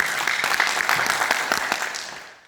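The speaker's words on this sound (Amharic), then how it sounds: "አጨብጭቡለት።" A short burst of clapping from a group, dense and steady, fading out toward the end.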